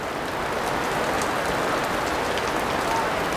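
Rain falls steadily outdoors by a river, with people sheltering under a canopy. It makes a dense, even hiss of drops on surfaces, loud and constant, with no talking.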